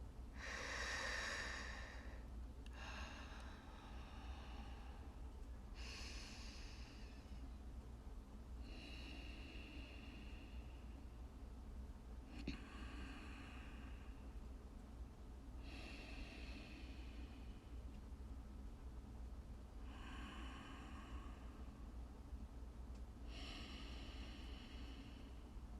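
Slow, deep breaths from a person lying on their back during yoga, about five long inhale-exhale cycles, soft and close over a steady background hiss.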